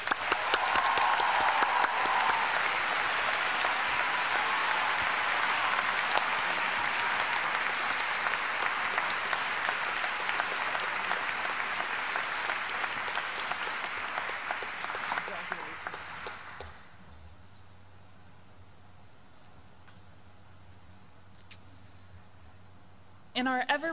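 An audience at a 2014 College of Saint Benedict commencement claps in a long, full round of applause that swells loudly, then fades out after about sixteen seconds into near quiet before a voice begins.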